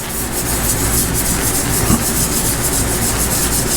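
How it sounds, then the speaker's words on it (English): Pad rubbed over rusty chrome, making a steady loud continuous scrubbing rasp that stays close and even throughout, with no voices. "I'm not putting any pressure on this pad at all, and the rust is literally just it's just falling off"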